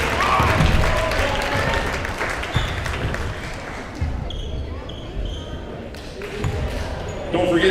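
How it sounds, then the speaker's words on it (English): Crowd applause and cheering in a high school gym honoring the seniors at a varsity basketball game, Franklin at Smoky Mountain, loud and sustained with a dense roar that thins toward the end, with chatter mixed in. "How about a big round of applause for all our seniors?"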